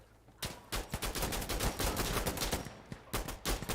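Rifle fire in the video game Insurgency, rapid bursts of loud close shots in quick succession, with short pauses between volleys.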